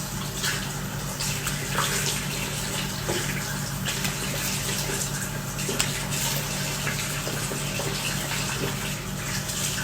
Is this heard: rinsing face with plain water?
yes